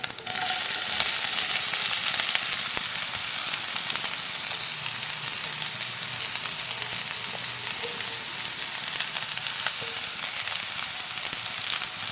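Chopped small onions sizzle loudly in a pan while being stirred for a squid roast, a continuous close frying hiss with occasional light scraping and no voices.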